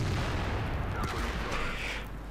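A shot from an Object 268 tank destroyer in World of Tanks: a low, booming gun report amid continuous rumbling battle noise, fairly quiet overall and heard at a distance.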